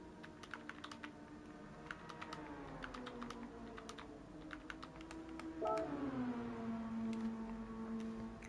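Computer keyboard typing in quick irregular bursts of soft clicks, fairly quiet and close, with a low droning tone in the background that bends downward partway through.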